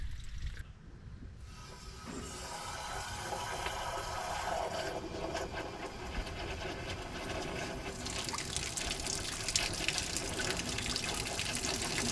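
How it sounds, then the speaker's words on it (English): Clean water drains out of a 1999 Dodge Ram pickup during a tune-up, making a steady splashing, gushing flow that holds even and continuous throughout. No voices are heard. "got some nice clean water coming out of there."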